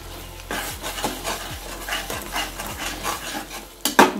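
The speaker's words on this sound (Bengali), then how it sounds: "ভালো করে মশলাটা কষে নেব" Spice masala with cumin powder frying in a pan while being stirred, with a rhythmic series of close scraping strokes about every half second over a soft sizzle, ending in a louder clatter.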